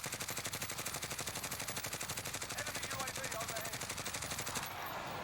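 Rapid automatic Grau 5.56 rifle fire in a video game, a steady run of closely spaced shots lasting about four and a half seconds before stopping, loud and continuous.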